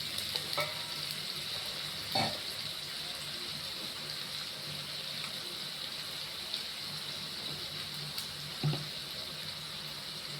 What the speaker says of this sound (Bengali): আলুটা খুব বেশি ভাজবো না, হালকা ভাজবো। এবার আমি এই মশলাটা ঢেলে দিচ্ছি।